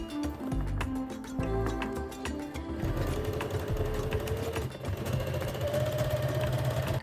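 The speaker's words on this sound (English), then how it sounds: "Top stitch the cuff with the elastic along its center line." A sewing machine top stitches a garment cuff with elastic along its center line, a close, rapid mechanical running that shifts pitch midway and carries on steadily without talking.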